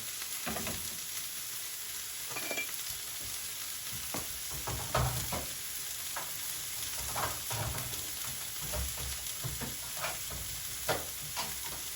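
Chicken in coconut milk simmers on low heat in a pan for nut-free satay, giving a steady soft sizzle with scattered pops and bubbling crackles, close and continuous without any talk.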